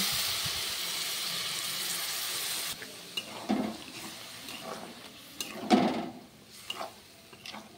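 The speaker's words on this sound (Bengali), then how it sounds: "তো এবার আমরা জল অ্যাড করে দেব" Water poured into a pan of frying masala for a kochur loti dish, starting as a loud steady hiss that cuts off, then scattered stirring clinks and gentle bubbling.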